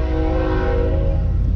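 A passing freight train sounds its horn near the tracks in a steady, loud, sustained blast with rich harmonic tones and a low rumble beneath.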